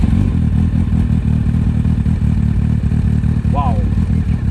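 Honda CBF 1000 motorcycle engine fitted with a modified Yoshimura-style exhaust, a loud steady idle rumble with dense low-end pulsing throughout, close up, with a brief faint tonal chirp near the end.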